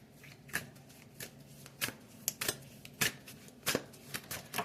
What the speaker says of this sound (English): I'm going to pull some cards from our new deck here, which is the Mythic Goddess